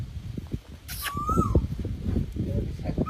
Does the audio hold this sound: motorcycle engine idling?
no